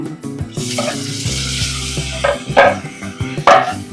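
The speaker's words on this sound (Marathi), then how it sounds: "आता आपण त्यात टोमॅटो घालूया" Tomatoes hit a hot pan for sautéing and break into brief bursts of sizzling, with steady background music underneath.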